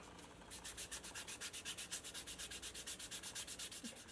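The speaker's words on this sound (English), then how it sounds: "Then I'm going to do a quick sand with, no idea what this is. This is like 300 grit." Sandpaper of about 300 grit rubbed quickly back and forth over leather, a steady run of roughly twenty short, even scratchy strokes at close range with no talking.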